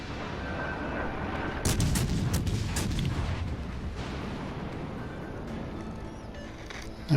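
Heavy naval gunfire from a battleship salvo in World of Warships Legends, likely the USS Tennessee, with a loud booming burst near the start settling into a sustained rumbling roar, and no talk.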